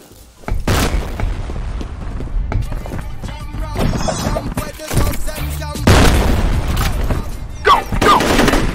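Grenade blasts in the first-person shooter F.E.A.R., several sharp booming explosions mixed with gunfire bursts in close combat, with a player's voice speaking between them.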